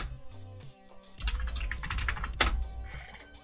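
Rapid clicking of keys on a computer keyboard as a Linux terminal command is typed, a close, busy patter of taps with a few heavier key strikes.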